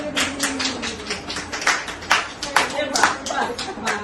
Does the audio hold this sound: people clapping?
yes